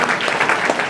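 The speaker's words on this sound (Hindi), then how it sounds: "जोरदार ताली के साथ में एक बार उनका अभिवादन करें" An audience at Navdeep Dham 2025 claps in unison to honor a devotee, a short burst of dense, steady applause that fills the space loudly.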